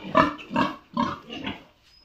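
Pigs in a pen on a pig farm in Assam give a run of four rhythmic grunting snorts, close and clear, with no talking over them.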